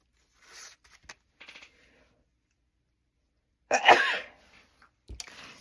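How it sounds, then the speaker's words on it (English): A single close, sharp sneeze from someone handling old View-Master reels, preceded by a few faint clicks and rustles and followed by a brief soft scrape. "It's making me sneeze."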